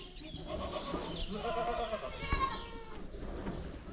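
Several goats, including young kids, bleat close by on a muddy farm, overlapping wavering cries over a soft background murmur, with a faint bird call mixed in.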